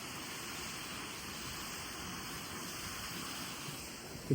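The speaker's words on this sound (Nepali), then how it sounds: "झरनाहरू बनाएको छ यहाँ।" Artificial waterfall in a park, water cascading down in a steady, even broadband rush that holds unchanged throughout at moderate level, with no voices.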